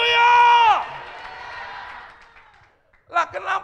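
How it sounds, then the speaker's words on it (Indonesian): A church congregation shouts together at a worship service, a loud sustained collective cry that fades into scattered voices, followed by a brief renewed burst of shouting. "Teriakan haleluya."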